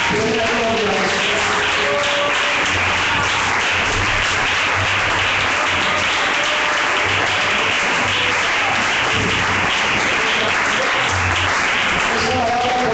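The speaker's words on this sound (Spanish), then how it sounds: "Se lo aplauda a Él." A church congregation at an IPUC service claps in a loud, sustained, crowded burst that holds at an even level throughout, with voices and calls mixed into the clapping.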